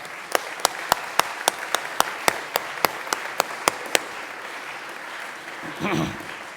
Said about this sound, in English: our ISA silver medalists, round of applause